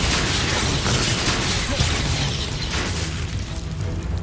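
A loud rumbling magical blast from the Expulso spell in Hogwarts Legacy fills the whole stretch with dense low roar and crackle, a second burst following the first, and no voices over it.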